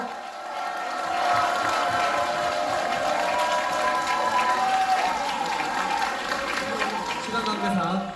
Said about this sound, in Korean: 여러분 큰 박수와 함성으로 맞이해주시기 바랍니다.